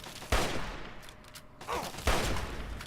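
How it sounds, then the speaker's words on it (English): Bursts of gunfire ring out in Fallout 3, with two loud sharp volleys of rapid shots, one near the start and another later, with a rattling exchange between them. "Oh good, they're both shooting me!"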